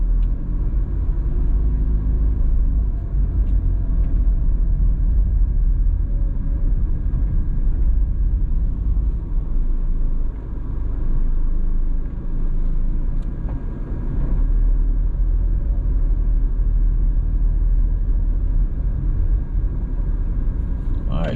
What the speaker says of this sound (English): So that traffic you're seeing now is Red Hills Road.